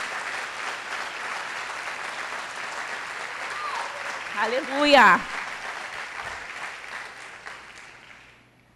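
A church congregation applauds, with broad sustained clapping under a voice shouting a praise exclamation midway, and the clapping fades out toward the end.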